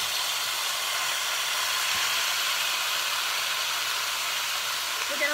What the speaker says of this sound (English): We're gonna put this right in our grill pan.